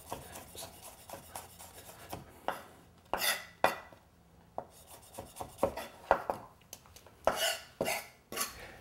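Knife blade smashing and chopping garlic cloves on a cutting board in a home kitchen during butternut squash soup prep; a run of sharp, close thuds and scraping knocks in irregular bursts, with no talking.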